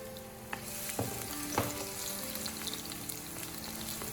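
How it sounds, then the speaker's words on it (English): Onion and minced garlic sizzle and fry in warm cooking oil in a pan, a steady close crackle with a few soft stirring knocks and no talking. "Add the onion and minced garlic first and sauté them to create a rich aroma."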